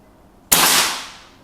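A single sharp air rifle shot from a scoped rifle, sudden and loud, with a bright crack that rings out and fades slowly over about a second, otherwise quiet around it.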